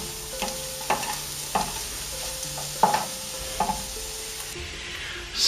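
Beef frying in a pan is stirred with a utensil, giving a steady sizzle broken by regular scraping knocks of the spoon against the pan, close and without speech.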